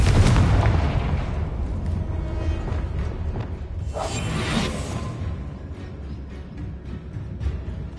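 The Confringo explosion spell in a video game erupts as a loud, dense rumbling blast that sustains throughout, with a whooshing burst swelling midway and a smaller thump near the end.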